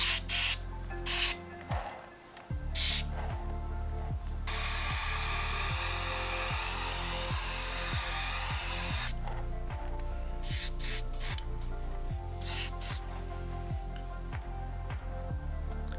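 US Earth Yellow spray paint hisses from a can onto a Star Wars diorama base: a few short bursts, then one long, steady spray lasting several seconds, followed by more short bursts over a faint low background hum.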